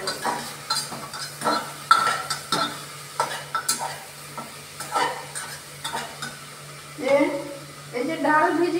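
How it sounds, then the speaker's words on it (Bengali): Vegetables with potato and eggplant being stirred in a pan for a red lentil dish, repeated scraping strokes of a spoon against the pan over a soft sizzle, uneven rhythm, fairly close. "দিয়ে আবার আমি নাড়াচাড়া করব।"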